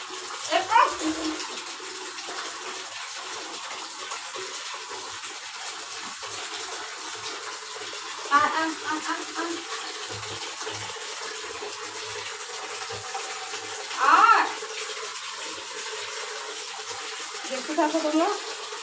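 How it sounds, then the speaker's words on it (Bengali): Water running and splashing steadily in a bathroom while Dodo is being bathed, with brief louder splashes at intervals and a voice faintly heard now and then. "তারপর স্নান দিচ্ছি ওকে"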